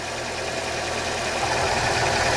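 A Fiat Punto petrol engine idles steadily with the bonnet open, giving a continuous close-up mechanical hum and fine vibration that stays even throughout without speech.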